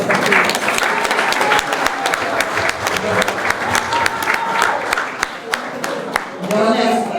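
Loud, dense applause from an indoor crowd at a staff New Year's greetings ceremony, steady sharp clapping filling the room for several seconds with some murmuring voices mixed in.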